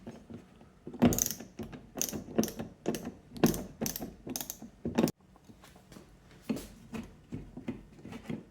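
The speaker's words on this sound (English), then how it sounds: "I have to tighten this connector for the Romex" Ratchet clicking while tightening the screw on a Romex cable connector in a finished wall before conduit goes up, a close, dry series of rapid ratcheting bursts in short strokes with brief pauses.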